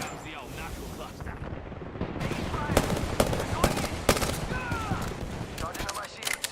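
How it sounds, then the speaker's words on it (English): Knuckle cluster weapon fired in a video game, heard as a dense barrage of sharp, rapid bursts and booms over a steady background rumble. "Here comes the old knuckle cluster."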